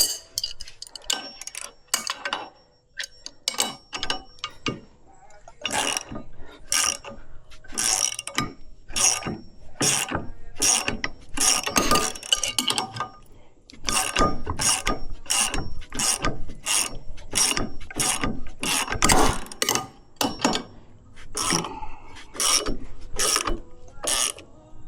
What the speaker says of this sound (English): Get a wrench on one side.